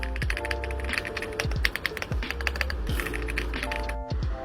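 Typing on a Huo Ji CQ082 75% tri-mode mechanical keyboard with linear switches and a gasket mount, a steady close-up run of clacky keystrokes with occasional heavier thocks, no speech.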